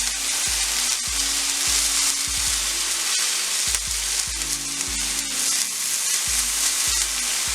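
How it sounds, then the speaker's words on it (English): Chicken sears in a black cast iron skillet with a loud, steady sizzle and crackle, broken by repeated low thumps and clanks as pieces are moved around the pan, with no talking. "We're just going to let this sear up right here."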